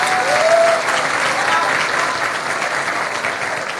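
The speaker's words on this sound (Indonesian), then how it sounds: "Tepuk tangan sekali lagi buat As-Saqofah." A large audience at a pesantren gathering claps continuously and evenly for several seconds, a dense wash of applause that fades slightly toward the end.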